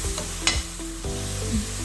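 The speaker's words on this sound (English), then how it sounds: "And here goes tomato puree." Tomato puree goes into a pan of sizzling onion, ginger and garlic for a dhaba-style bhindi masala, a steady sizzle with a brief stir and spatula clatter partway through.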